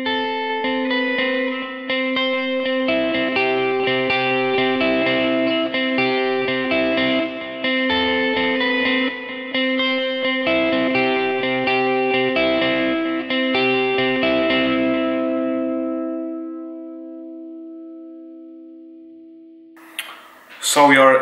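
Electric guitar run through effects with reverb, chorus and light distortion plays a sustained, ringing solo line from a song, notes held over a steady drone before fading out, followed by a brief bit of handling noise at the end.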